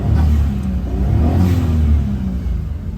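A Suzuki Jimny engine revs up loudly close by while out of gear, a deep rumbling roar with a faint turbo whir on top, holding strong for a few seconds.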